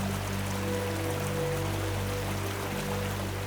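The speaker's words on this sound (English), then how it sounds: "the snow was melting fast, which created a ton of really beautiful streams that flowed all through the forest" Snowmelt stream running through a Yosemite forest, a steady broadband rush of flowing water that continues evenly from start to finish with no voices.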